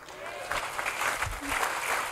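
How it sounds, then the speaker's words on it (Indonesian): A church congregation claps together in a brief, dense burst of applause, steady and fairly close. "Mau kasih tepuk tangan buat Tuhan."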